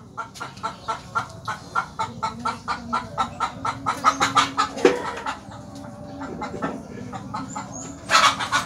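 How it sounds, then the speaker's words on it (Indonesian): A chicken clucks repeatedly in a steady rhythm, close by, with a few louder squawks near the end and no talking. "Saya usir dulu itu ayam, saudara."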